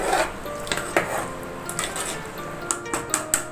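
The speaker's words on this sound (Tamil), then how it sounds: "இந்த ஸ்டேஜில் ஒரு தடவை கிளறி விட்டுக்கலாம்" A pot of chicken biryani masala in oil is stirred before the basmati rice goes in, with soft scraping and rubbing and occasional light clinks against the pot, close and quiet without talk.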